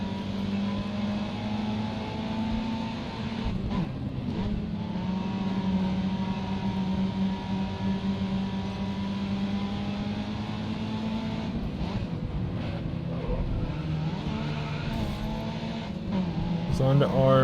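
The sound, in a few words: race car engines in video game Grid Autosport, probably Lexus LFA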